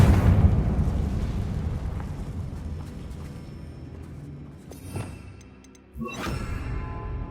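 A Confringo fire spell blasts in Hogwarts Legacy, a loud rumbling explosion at the start that fades slowly, followed by a second sharp burst near the end.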